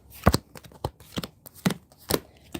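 Tarot cards shuffled by hand in a quiet room, a series of separate crisp riffles and soft slaps repeating at irregular intervals, close and fairly faint, with no talking.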